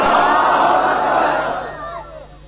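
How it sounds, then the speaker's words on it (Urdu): A large gathering at a religious sermon roars back a slogan in unison, a loud, sustained massed shout that swells and then fades out over a couple of seconds. "محبت دے نال اور بلند آواز دے نال نعرے دا جواب دیسو نعرہ تکبیر"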